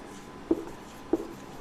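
Two brief scratches of handwriting on a board or page during a school physics lesson on scalar quantities, close and quiet, spaced about half a second apart with no voice.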